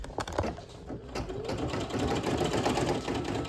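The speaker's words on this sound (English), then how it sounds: "you're going to continue, let it just make that satin stitch" Embroidery sewing machine running steadily as it stitches a dense satin stitch for an appliqué on a baby onesie, a close, continuous rapid whirring hum with a few clicks at the start.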